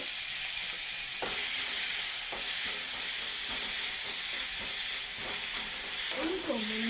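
Chopped onions and beans sauté in a hot pan for a vegetable noodle dish, giving a steady broadband sizzle with occasional soft stirring scrapes and a brief tonal squeak near the end.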